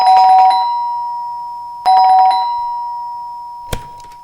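A household calling bell rings twice, each a bright electronic chime with a lingering tone, close and loud in a quiet room, followed by a brief knock or thump.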